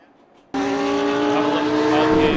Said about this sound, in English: On his onboard cam. This is the only way we can get engine noises, apparently.